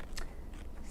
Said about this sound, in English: using my scissors just to go around the edge of that